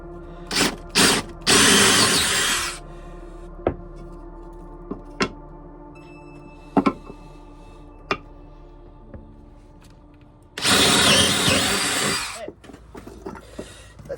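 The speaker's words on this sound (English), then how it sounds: "Then let's drill our bigger holes here for our 1/4-20s." A power drill bores larger holes for 1/4-20 rivet nuts with a bigger bit during a camera mount van build, two loud sustained whirring bursts, one early and one late, separated by scattered clicks and light knocks.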